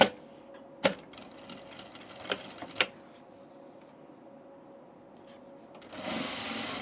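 A sewing machine top stitches a tunic seam in soft, quiet runs, with a few sharp clicks and taps along the way. A brief louder whir comes near the end.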